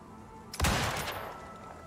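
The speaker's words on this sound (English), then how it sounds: "Oops, sorry, that was the hunting rifle." A hunting rifle fires at a polar bear in the video game Icarus: one sharp, loud shot with a booming low thump, trailing into a fading echo over the next second.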